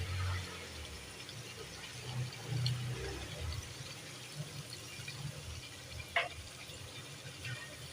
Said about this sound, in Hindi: अब इसमें हम थोड़ा पानी डाल के इसको पकने देते हैं।